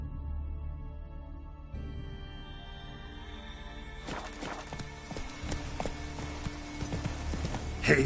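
Roach, the horse in The Witcher 3, gallops with rhythmic hoofbeats that become sharper and more prominent partway through, set against game music and ambience.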